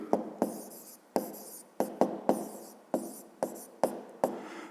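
Handwriting during a fifth-grade geometry exercise, heard as a series of sharp pen strokes and taps on paper in an irregular rhythm, close and fairly quiet with no voices.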